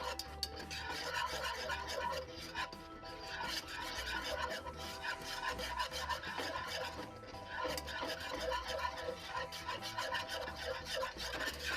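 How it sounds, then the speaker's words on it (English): Whisking a sugar-free ice cream base with unsweetened cocoa powder in a pot, a steady close scraping rasp of the whisk against the pan that continues without a break, with no voices. "And now we whisk."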